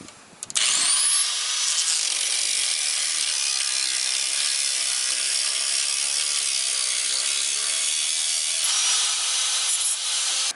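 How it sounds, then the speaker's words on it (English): An electric grinder spins up with a rising whine and then cuts steadily through a metal piece near the radiator of a Ford F150, a loud, continuous harsh grinding with no talking. "I got myself my grinder, and I'm going to go ahead and chop this whole piece off"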